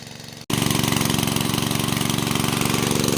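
A small engine-driven pump drawing water out of a pond to catch fish, starting abruptly after a short quiet moment into a loud, steady, rapidly chugging drone close by.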